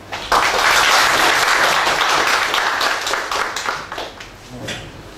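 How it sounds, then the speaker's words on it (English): Loud, sustained audience applause fills a university lecture hall at Chiang Mai University, welcoming Professor Kip Thorne to a talk on black holes and gravitational waves, starting abruptly and thinning out toward the end. "Please give a warm welcome to Professor Thorne"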